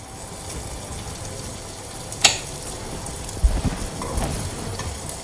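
Potatoes frying in a pan with small pieces of butter added, a steady soft sizzle with a few stirring clatters and light scrapes partway through.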